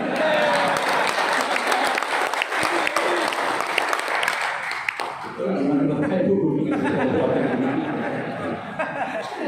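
Applause from a crowd at a Pemuda Pancasila gathering in Batam, dense clapping that fades out midway, followed by murmuring and some laughter.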